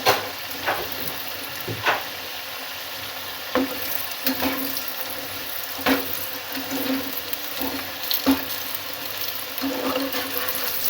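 Potatoes fry in rosemary-infused oil with a continuous close sizzle, broken by occasional soft clinks and stirring knocks from the pan.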